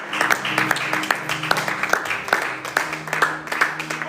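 A church congregation claps in steady rhythm, sharp regular hand claps over a soft, sustained musical backing, moderately loud and without any clear talk.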